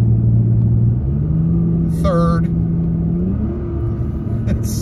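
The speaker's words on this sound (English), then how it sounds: "You can definitely feel when it shifts, particularly if you go down into lower gears." Toyota Tacoma engine in sport mode downshifting through the gears from about 50 mph, a steady loud cabin rumble with engine pitch stepping up and down, while a person talks over it.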